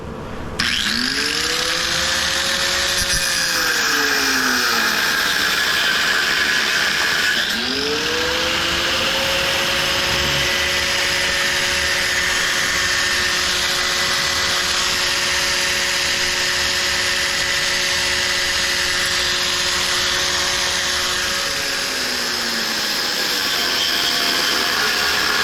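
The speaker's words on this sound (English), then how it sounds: "So let's try to cut the bolts off if I can get in there." A power tool whines up to a high steady pitch while cutting bolts off an old scrapped welder, loud and close, dipping briefly before spinning back up and holding for a long stretch before winding down.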